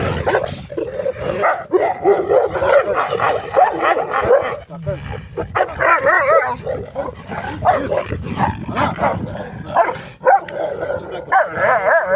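A dog barks repeatedly in short yaps and whines while people talk over it nearby.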